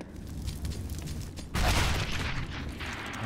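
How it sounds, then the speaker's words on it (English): Gunfire from Counter-Strike: Global Offensive during an ESEA EU Open match, a burst of rapid shots that jumps louder midway into a sustained, dense volley of firing with mechanical clatter, no voices over it. "gets shot in the back from Saikun, and instantly it's the advantage"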